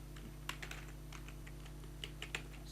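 Soft keystrokes on a computer keyboard while HTML code is being written, a few scattered taps over a steady low electrical hum, no talking.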